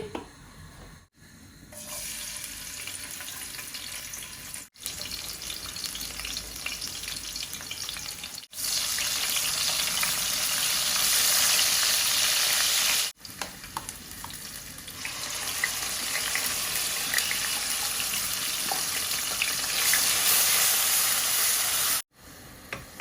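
Onions sizzling in hot oil as the base for a dried shol fish curry, a loud continuous close frying hiss that swells and drops in sections, broken by a few brief cuts, no talk.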